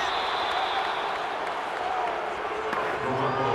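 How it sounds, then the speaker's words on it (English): Crowd at an NFL football stadium during the Bears–Raiders game, a steady loud roar of cheering and clapping building toward a big third down, under faint commentary. "The crowd getting into it as we come up on a big 3rd down."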